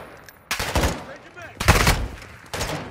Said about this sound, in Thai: ยเฮ้ยมีบอทยิงฝั่งข้าม